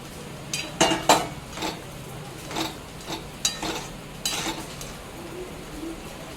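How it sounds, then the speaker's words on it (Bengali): A spoon stirs soybean curry with fried potatoes in a pan, making intermittent scraping strokes and light clinks against the metal. The strokes are fairly soft and come in an irregular rhythm over a quiet background. "সবটা নাড়াচাড়া করে মিক্স করে নিচ্ছি"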